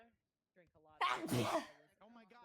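A single sharp, loud sneeze bursts out between stretches of casual speech, with a voice talking before and after it in a quiet room.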